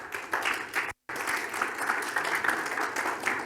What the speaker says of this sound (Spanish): Bienvenida, un aplauso por favor para Daniela.